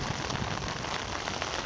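Heavy rain falls on a new-build house lot in Cape Coral, Florida, a steady, even hiss of drops drumming on surfaces at moderate level, with no talk.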